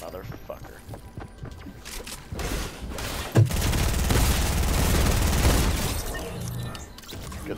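Fortnite Battle Royale gunfire, including a SCAR and shotguns in Pleasant Park, as bursts of rapid shots and impacts swell into a dense, loud volley mid-clip while players chatter over the game sound.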